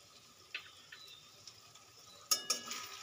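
Masala gravy for chicken kosha being stir-fried in a pan, soft spoon scrapes and clinks at intervals, ending in two sharper metallic knocks with a faint sizzle underneath, close and quiet with no talking.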